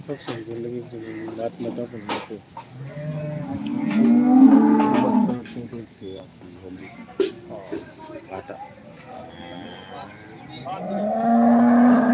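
Dairy cows low repeatedly at a farm, several drawn-out moos rising near and far, with bird cooing and someone talking intermittently in between.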